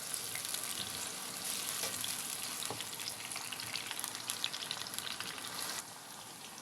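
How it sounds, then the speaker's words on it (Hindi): Eggplant frying over a medium flame in a pan, a continuous dense crackling sizzle that holds steady throughout, easing slightly near the end, with no voices. "ये देखें हमारे बैंगन अच्छे से फ्राई हो रहे हैं"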